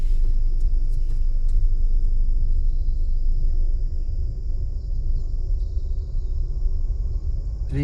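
An automatic car's engine rumbles steadily and loud up close as the driver accelerates over a potholed road, with continuous low drone throughout and no talk.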